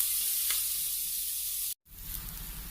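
Chopped onion pieces fry with salt in a pan, a steady close hiss of sizzling oil with a brief cut near the end before the sizzle resumes.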